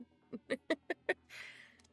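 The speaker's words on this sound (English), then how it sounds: "Luna, you're being loud, kitty cat." A house cat meows loudly in a quick series of five short, distinct cries, close to the microphone and fairly quiet overall, followed by a brief breathy, hissing sound.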